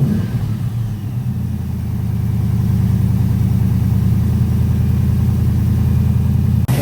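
A cold V8 engine in a Ford Capri project car idles steadily with a low, even burble, loud and close, with no talk over it.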